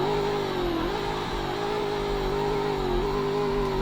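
Audi SQ7 idling in the Roblox game Greenville, a steady low engine drone with a sustained hum that wavers slightly in pitch, even and continuous at moderate volume.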